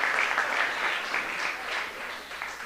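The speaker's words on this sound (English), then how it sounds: "One more round of applause for our South Middle School athletes." Applause for South Middle School athletes at a Board of Education meeting fills the room as steady, dense clapping from a seated crowd, with no speech.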